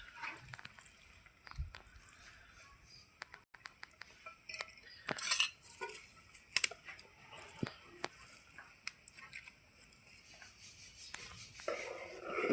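Maggi noodles with lemon juice stirred in a pan, giving soft intermittent clinks and scrapes of a utensil against metal, close and fairly quiet, with a few sharper knocks and no talking.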